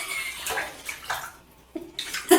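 Shower water running and splashing during leg shaving, heard as a broad hiss in uneven bursts with brief pauses, fairly close and alone without talk.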